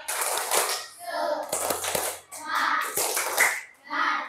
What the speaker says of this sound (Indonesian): Bisa tepuk semangat? Coba Bapak ingin dengar. Tepuk semangat.